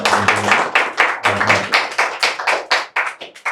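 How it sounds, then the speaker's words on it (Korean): Applause during a Sunday church service, a congregation clapping in uneven bursts of sharp hand claps that come near and fairly loud, with a brief low murmur at the start. "박수 감사합니다"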